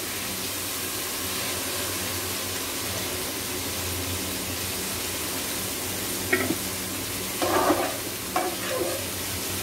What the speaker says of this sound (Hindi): थोड़ा बहुत चलाएंगे और डाल देंगे इसमें भिगा हुआ मूंग